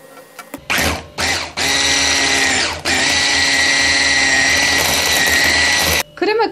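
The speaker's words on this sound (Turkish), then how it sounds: "1 adet yumurtamı ekledikten sonra mikserle krema kıvamına gelene kadar çırpıyoruz." An electric hand mixer whips cookie dough with egg and powdered sugar, its loud motor whine running in long bursts with brief stops and restarts, close and dominant.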